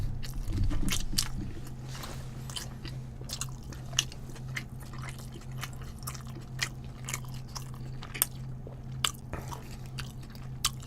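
Close, wet chewing and biting of a gochujang bulgogi and pork belly lunch box, with steady mastication and occasional crisp crunches over a low constant hum, no talking.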